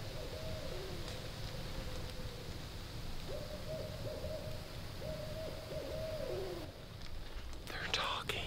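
Owls hoot back and forth at night in the woods, steady repeated calls at moderate distance over a constant hiss of ambient background, with a brief rustle near the end.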